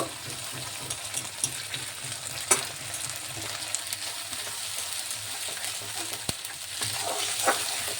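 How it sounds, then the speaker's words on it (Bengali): A spice paste of cumin, coriander, fennel and dried chili fries over low heat while being stirred: a soft, continuous sizzle broken by scraping clicks and bumps from the spoon. "কাঁচা মশলার গন্ধটা যাতে না থাকে, তাই জন্য ভালো করে নাড়বো"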